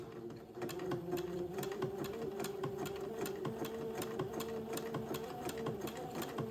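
A sewing machine stitches entredeux onto lace heirloom-style, running slowly with a steady, rapid needle rhythm and a constant motor whir, close and alone with no talking.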